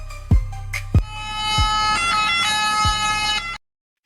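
An ambulance boat's siren wails loud and steady as the boat races across water, with a few sharp thumps at the start before the sound cuts off abruptly.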